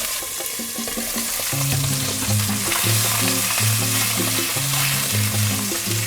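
Ribbonfish (hairtail) pan-frying in hot oil, a loud continuous sizzle and crackle with spattering close by, while a steady tonal hum runs underneath.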